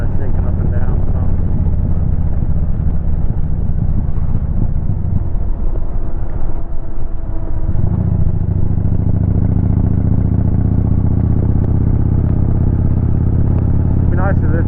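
Kawasaki Vulcan 2000 motorcycle with a five-speed gearbox, ridden on the road and heard from the rider's position: a loud, steady low engine drone throughout that deepens and thickens after a shift midway, with wind buffeting on top.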